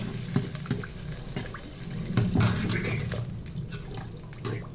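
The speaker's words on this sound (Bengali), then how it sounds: "এবার এই গরম কড়াই সহ শুটকিতে পানি দিয়ে দিচ্ছি" Water splashing and bubbling into a hot pan of dried fish, a steady watery rush with brief hissing surges, nearby and moderately loud.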